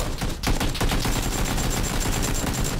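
An AK rifle fires in PUBG as one continuous, loud burst of rapid automatic shots, with dense, overlapping cracks and no pauses.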